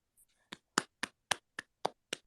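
Seven evenly spaced hand claps, sharp and close, following a brief faint noise at the start, with no voices.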